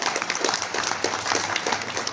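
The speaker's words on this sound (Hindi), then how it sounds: "तालियां होती रहे लगातार" Steady, continuous applause from a ceremony audience at a Jharkhand ministry event where the Chief Minister hands out appointment letters, with dense clapping sustained throughout at moderate distance.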